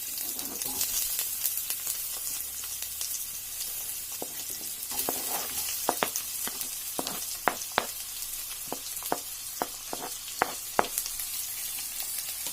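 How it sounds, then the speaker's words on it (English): Chopped onions frying in a pan for a soybean curry, a soft continuous sizzle with a run of sharp spatters and crackles through the middle, close and moderately quiet, no voices. "I'm going to just fry them a little bit till they are a little translucent"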